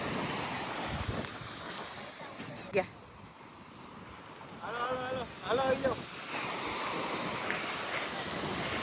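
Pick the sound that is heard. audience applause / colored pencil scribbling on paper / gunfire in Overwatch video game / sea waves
sea waves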